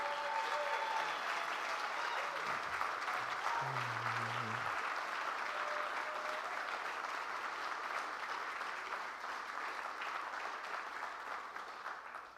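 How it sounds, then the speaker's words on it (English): A graduation audience gives sustained applause for 21 graduates, a dense, even roar of clapping that holds for the full stretch and fades slightly near the end, with a brief voice briefly under it early on. "Yes, they're clapping for you."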